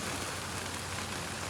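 Steady rain patters densely on a surface, a continuous even hiss with no voices.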